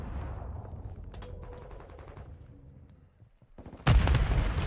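Grenade explosion in a Call of Duty match: a sudden loud broadband blast near the end follows quieter scattered gunfire and rumbling combat noise.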